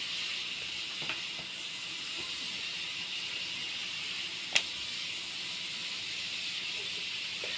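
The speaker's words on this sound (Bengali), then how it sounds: "আরও কিছুক্ষণ ভেজে নেব মিডিয়াম আছে" Potato pakoras frying in hot oil give off a steady, even sizzling hiss, close and moderately quiet, with a couple of faint pops, one sharper crackle near the middle.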